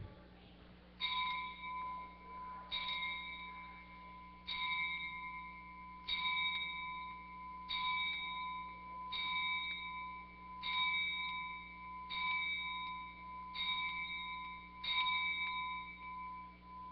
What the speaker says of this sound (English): just have a moment of silence with our 10 bell